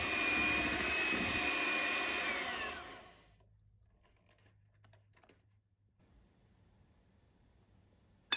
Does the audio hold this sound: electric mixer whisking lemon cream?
yes